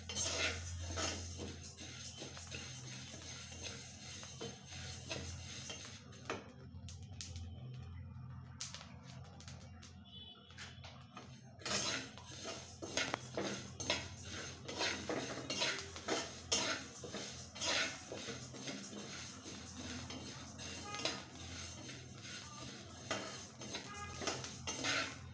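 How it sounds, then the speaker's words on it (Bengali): Plain rice dry-frying in a pan with no salt or water, stirred with a utensil, giving repeated close scraping and clinking against the metal, with a short quieter pause partway through. "সুন্দর করে চালটাকে ফ্রাই করে নেব,"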